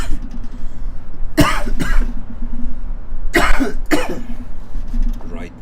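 Two pairs of sharp, loud coughs close to the microphone, separated by a brief pause, with quiet room noise between.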